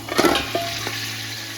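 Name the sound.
goat trotters frying in oil with ginger garlic paste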